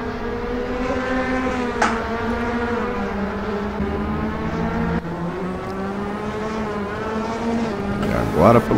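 DTM race car in the Assetto Corsa racing game at the Imola circuit, its engine droning steadily with a rising and falling pitch throughout, loud and close, ending in a brief higher-revving burst.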